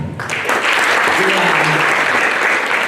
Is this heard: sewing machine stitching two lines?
no